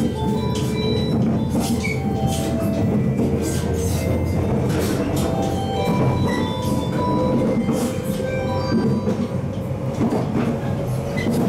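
The Resort Yamadori train departs Chikura Station in Japan, rumbling steadily along the rails, a continuous loud mechanical roar with faint rattling and high squeals throughout.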